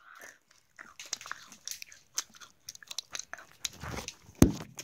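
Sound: eating a Kit Kat chocolate bar, crunching

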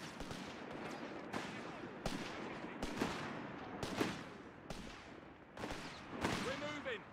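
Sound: gunfire in a video game battle

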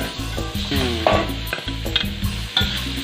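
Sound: stir-frying garlic, pork and mushrooms in a wok

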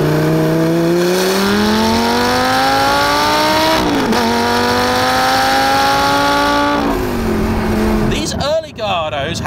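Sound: Lamborghini Gallardo Superleggera 5-litre engine running

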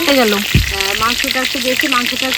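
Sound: frying potatoes in oil

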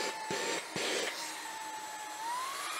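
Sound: Xiaomi mini handheld vacuum cleaner running on level 1

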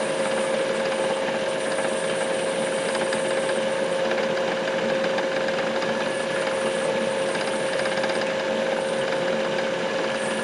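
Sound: drilling a hole in a rock with a small drill bit

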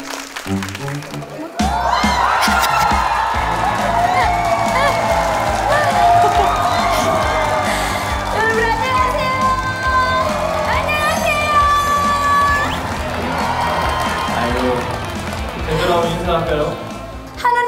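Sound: audience applauding singers at village festival

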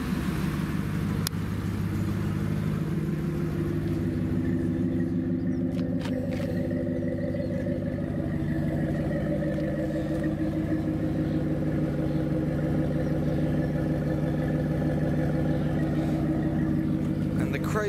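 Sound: Dodge Ram 5.7 V8 Hemi idling with loud exhaust

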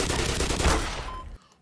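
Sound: shotgun fire in the video game Black Mesa

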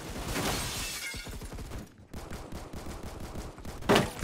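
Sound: gunfire from a gun in the video game Roblox Phantom Forces

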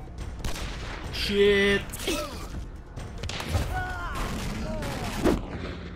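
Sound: gunshots from the video game Hunt: Showdown

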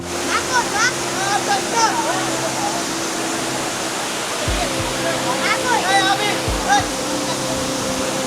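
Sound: Dhuppani waterfall in Rangamati

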